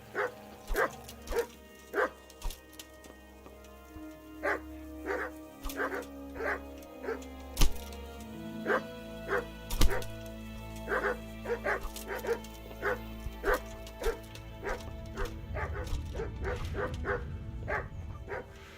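A dog in the video game Kingdom Come: Deliverance barks repeatedly, with rhythmic sharp bow-wows, yips and whimpers over about eighteen seconds, set against game music and someone talking.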